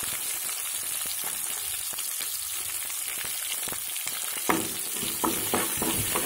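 Small chopped shallots and curry leaves fry in oil for a tamarind gourd curry. A constant close sizzle runs throughout, and light spoon stirs and scrapes grow more distinct toward the end.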